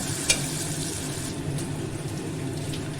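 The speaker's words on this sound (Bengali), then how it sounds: "দুটো তেজপাতাও দিয়ে দিলাম পেঁয়াজটা পুরো লাল করবো না পেঁয়াজ ভাজার গন্ধ বেরোলে আমি তখন সবজিটা দিয়ে দেব" Onion, chilli and a couple of bay leaves fry in hot oil with a continuous close hiss and sizzle that holds steady for a few seconds, broken by a single brief click.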